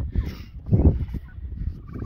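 Short bursts of turkey gobbling, close and fairly loud, with a few quick rattling calls.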